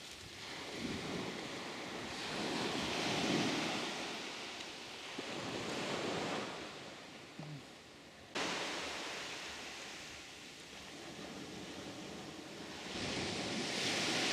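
Ocean waves of the Arafura Sea roll and break on a beach at Kai Besar, Indonesia, in repeated surges, a steady rushing wash with wind noise, no voices.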